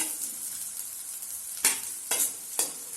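Crushed ginger frying with browned onions in a pan, a soft steady sizzle punctuated by three sharp stirring scrapes near the end, no talking.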